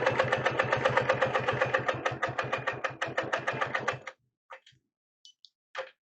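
A sewing machine quilting with a Wonderfoot 360 ruler foot runs in a fast, even stitching rhythm for about four seconds, then stops, leaving a few short mechanical clicks and bursts.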